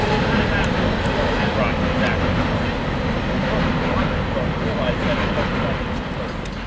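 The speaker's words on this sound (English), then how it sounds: "CSX Q038 coming by Folkston on track 2 with approach limited" CSX freight train Q038 rolls past Folkston on track 2, a loud, steady rumble of railcars with faint rhythmic clicks from the rails, while a voice talks over the passing train.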